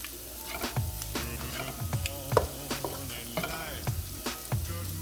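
Spam fried rice being stirred and fried in a flat-bottomed chef's pan: steady sizzling with repeated scraping and clattering of the utensil against the pan, close and continuous, no talking.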